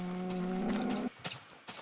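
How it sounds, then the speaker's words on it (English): A cow mooing in the Minecraft video game, one long loud low moo followed by a few short thumps and game sounds, with no talk. "thank you for your creamy freshness, you Mr. Moo Cow"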